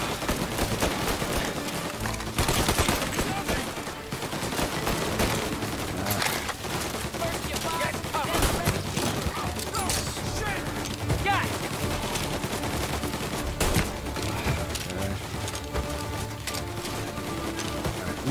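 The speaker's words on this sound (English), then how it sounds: "Most of my shots miss terribly." Gunshots in Mafia: Definitive Edition pop in dense, overlapping volleys within a busy game mix, sharp cracks scattered throughout a continuous loud din, with voices talking over parts.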